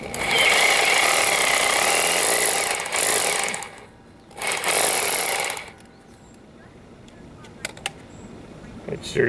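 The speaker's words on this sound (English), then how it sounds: "Then you use the hammer part to hammer the bolts in" A hammer drill drives anchor bolts into cement in two long, loud bursts of dense rattling hammering, separated by a short pause and followed by quieter background noise with a few sharp knocks.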